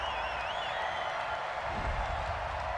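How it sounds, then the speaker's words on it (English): A football stadium crowd keeps up a steady, distant roar of disapproval over an American football penalty flag, with scattered whistles rising above the broad noise. "Well, the crowd doesn't like that."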